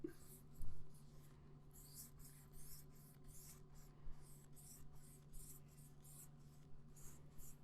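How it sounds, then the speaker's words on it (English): A brush lays a thick coat of gesso onto a wood panel in steady rhythmic strokes, a soft repeated scratchy swish close up, with a low hum underneath. "Putting a little bit more gesso here. And this is a pretty thick coat."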